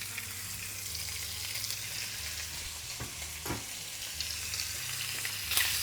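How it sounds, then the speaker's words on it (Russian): Meat sears in well-heated avocado oil for keto plov, a loud steady crackling sizzle up close with a few soft stirring knocks and a louder flare at the end. "Теперь в хорошо разогретое масло я добавляю мяско."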